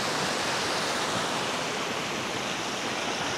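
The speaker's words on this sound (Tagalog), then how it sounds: "Tuktok Falls." Tuktok Falls in Barangay Halang, Amadeo, Cavite, gives a dense, steady roar of falling water, loud and close, with no other sounds.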